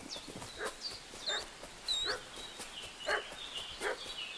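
A dog barks repeatedly in a village yard in the Kingdom Come Deliverance 2 video game, a string of sharp, fairly distant yaps and whimpers at an uneven rhythm over faint ambient background.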